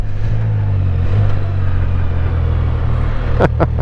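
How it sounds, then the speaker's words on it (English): A 2024 Can-Am Spyder three-wheeler engine under way, a loud steady drone with wind rush that shifts in pitch as it downshifts, close and continuous. "Now with downshifts on its own, you can downshift."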